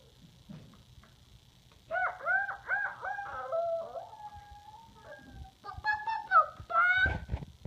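A person imitates chicken and rooster calls, making a run of rhythmic clucks and then longer, wavering crowing sounds. The calls are close and fairly loud over a quiet background.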